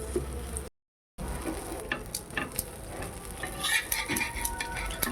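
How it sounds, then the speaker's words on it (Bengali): An egg omelette fries in mustard oil in a pan, a soft crackling sizzle with light ticks and spatters, cut by a brief silence near the start. "এক পিঠ খুব সুন্দর ভাজা হয়ে গিয়েছে এবার ওই পিঠটা ভালো করে ভেজে নেব"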